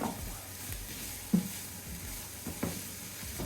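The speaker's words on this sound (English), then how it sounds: "I'm gonna add the peppers." Peppers sizzling in a hot pan after being added, a quiet steady fizz with a few soft knocks and stirring bumps from a utensil.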